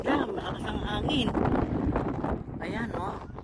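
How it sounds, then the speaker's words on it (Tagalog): Strong, cold wind at a lakeshore buffets the microphone in a steady rumbling roar, with voices talking over it. "Malakas ang hangin."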